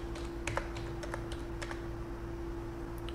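Numbers are typed on a computer keyboard as a spreadsheet is filled in, with a few quick, light key clicks early on over a steady low electrical hum, then a quieter stretch with faint taps.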